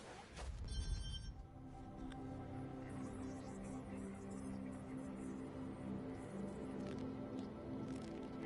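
A phone rings in the video game Watch Dogs 2, its quiet electronic ringtone tones sounding briefly near the start over a low, steady game background.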